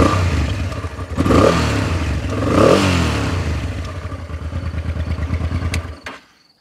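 A 2008 Honda Transalp motorcycle engine cranks, catches and revs with a couple of throttle blips before settling into a rhythmic idle, close and loud, then cuts off.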